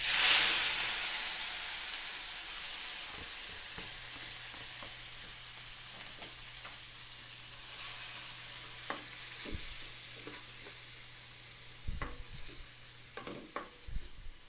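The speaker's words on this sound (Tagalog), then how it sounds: "Kaya ngayon naman, igigisa muna natin ang sibuyas, bawang, kamatis." Onion, garlic and tomato sautéing in oil for a Filipino fish sarciado, a sizzle that starts strong and fades to a softer steady fry, with a low hum and a few sharp utensil clanks near the end.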